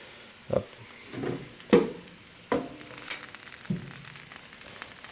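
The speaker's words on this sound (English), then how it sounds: "the peppers are very hot. You can still hear them sizzling." Soft crackling sizzle of hot roasted poblano peppers, with a few sharp clinks and thumps of handling in a bowl nearby; no voices.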